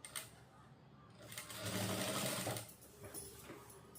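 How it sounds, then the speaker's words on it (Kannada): A sewing machine stitches a double-folded seam on a lehenga, running in a steady, fairly quiet mechanical whir that swells in the middle and eases off, close by. "ಡಬಲ್ ಫೋಲ್ಡಿಂಗ್ ಮಾಡ್ಕೊಂಡು ಸ್ಟಿಚ್ ಮಾಡೋಣ."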